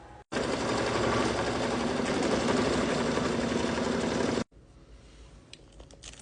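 A sewing machine stitches the fabric base of a Christmas ornament, running in one loud, steady buzzing burst for about four seconds before stopping, followed by quieter handling sounds.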